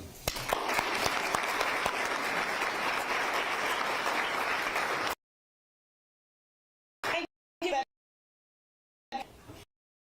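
Audience applause welcomes Rita to the podium at a Virginia's Blue Ridge and Virginia Tourism Corporation tourism announcement. Steady, full clapping runs for about five seconds and then stops, followed by a few short bursts of sound.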